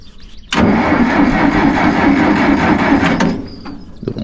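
A Massey Ferguson 40 tractor engine cranks and catches at about half a second, then runs loudly and steadily for nearly three seconds before cutting out abruptly, followed by a brief knock.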